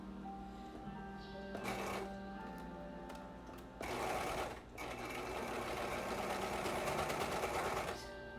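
A sewing machine stitches through two layers of fabric, a steady close mechanical whir with a brief pause midway before running on and stopping near the end.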